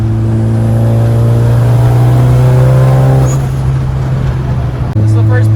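A Ford Focus ST/RS engine runs under load during a pull, a loud, close, steady droning hum with strong low tones that loosens into rougher noise partway through before the drone returns.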